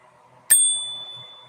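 An electric scooter's push-button bell gives a single sharp, close ding that rings on with a clear, fading metallic tone.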